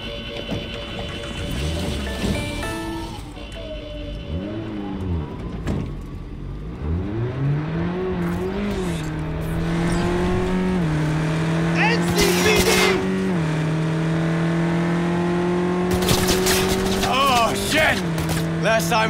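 Car engine in Cyberpunk 2077 during a police chase, droning steadily and rising in pitch as it accelerates through shifts, with game music and voices talking over it.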